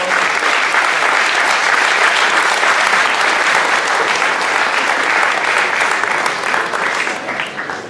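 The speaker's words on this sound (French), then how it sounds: "je vous demande d'applaudir très fort s'il vous plaît" Loud, sustained applause from a large audience at a Paris community tournament event, dense and steady for most of the stretch before thinning slightly at the end.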